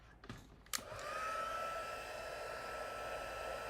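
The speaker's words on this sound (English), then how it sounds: "Now I'm just going to take and use my heat tool." A handheld heat tool blows hot air to dry embossing during a Christmas card stamping session, starting with a couple of clicks and then settling into a steady, close whirring hum that runs on continuously.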